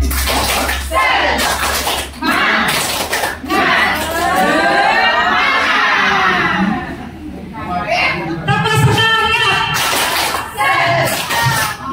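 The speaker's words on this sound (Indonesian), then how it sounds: "Tepuk semangat." A group performs the rhythmic 'tepuk semangat' spirit clap, sharp patterned bursts of hand claps near and loud at the start, then chanting and lively voices dominate with scattered claps.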